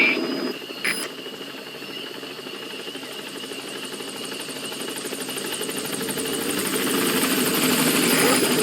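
Support helicopter arriving in the Metal Gear Solid V video game, a steady rotor and engine drone that swells gradually louder as it approaches, after a brief radio-style sound at the start.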